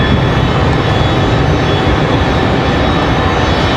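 An Airbus A319 departing Raleigh Durham International Airport gives a loud, steady broadband jet roar that holds constant and close throughout, with no talking.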